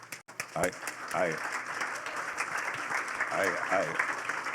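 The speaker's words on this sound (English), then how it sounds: "you got to really give these guys a round of applause" Audience applause rolls on steadily in a church gathering, with a voice talking over the clapping.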